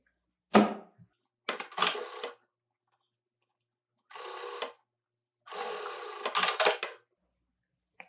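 A sewing machine joins two fabric pieces placed right side to right side for a bag that converts into a toiletry pouch, running in several short close bursts with quiet pauses between them.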